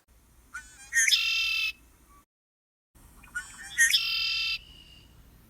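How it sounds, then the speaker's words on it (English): Two bright, buzzy red-winged blackbird calls separated by a short pause, each a rising trill that holds briefly, heard outdoors in wetlands against faint low background noise. "we do frequently see red-winged blackbirds and hear their call all over"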